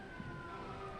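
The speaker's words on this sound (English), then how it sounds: "Here comes the White Lake" A siren on a new White Lake ambulance sounds during an annual Christmas parade. Its steady tone holds at a moderate distance over outdoor crowd and road noise.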